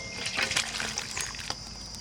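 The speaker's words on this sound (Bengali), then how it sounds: "এবার ঠান্ডা করার জন্য ঢেলে নিচ্ছি" Hot raw-mango kasundi pickle is poured out of the pan to cool, a thick liquid trickle with wet splatters and some scraping under a constant background hiss.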